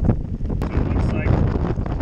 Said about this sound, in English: this wind is getting terrible.